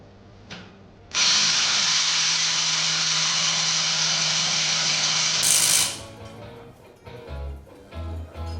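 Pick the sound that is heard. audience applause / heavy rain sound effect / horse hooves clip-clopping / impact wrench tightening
impact wrench tightening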